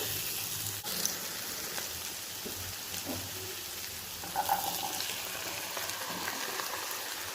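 Cooked green peas, boiled with salt and turmeric, drop into a sizzling tomato-onion masala for an egg masala, giving a steady close frying hiss with faint clinks and stirring, no voices.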